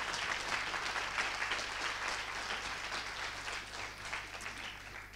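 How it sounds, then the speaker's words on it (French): An audience applauds at the Ma Thèse en 180 secondes PSL 2018 final, a steady blanket of clapping heard from a slight distance, fairly quiet, with a low electrical hum running underneath. "si vous voulez bien l'applaudir"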